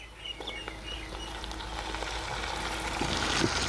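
Tomatoes hit a pan of frying garlic and ginger for a village-style baam fish curry, giving a faint, steady sizzle with light stirring scrapes and a few bird chirps in the background.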